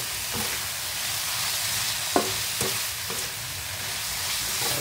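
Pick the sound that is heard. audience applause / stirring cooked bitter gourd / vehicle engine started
stirring cooked bitter gourd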